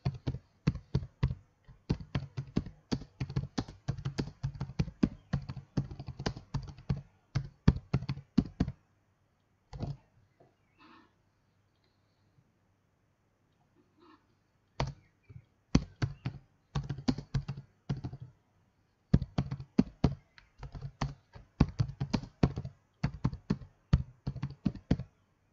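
Someone types a sentence on a computer keyboard in bursts of quick, close key taps, with a quiet pause in the middle before the typing resumes. Nobody speaks.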